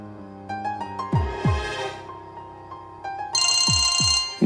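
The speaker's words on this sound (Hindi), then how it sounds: "माही क्यों फोन कर रही है?" An electronic phone ringtone plays a bright melodic pattern of repeated tones, with a few soft thumps underneath; no voices.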